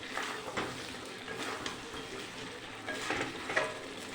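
Chopped green chilies and chicken are stirred in a frying pan during Bengali cooking, a soft steady sizzle broken by a few scraping strokes of a spoon, quiet and close with no talk.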